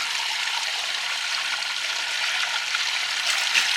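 Steady broadband rush of a stream of water flowing beside a little house in Kingdom Come Deliverance 2, continuous and even at moderate level with no talk over it.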